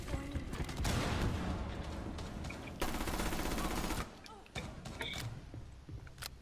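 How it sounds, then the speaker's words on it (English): Rapid automatic gunfire from a tactical shooter video game rattles in dense bursts, one long volley, a pause, then another, with a few sharper single shots after, mixed under excited voices. "I don't know how many shots was that"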